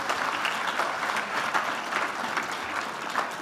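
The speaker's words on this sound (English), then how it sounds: "can we have a round of applause for everyone who's made it this far into the finals" A conference awards audience applauds steadily, a dense continuous wash of many hands clapping at even loudness throughout, with no voices standing out.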